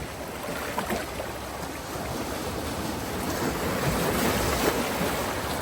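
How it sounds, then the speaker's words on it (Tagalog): Strong ocean surf crashes and washes continuously, a broad roaring wash building slightly louder toward the end, with some wind noise over the microphone. "ang lakas ng alon, guys"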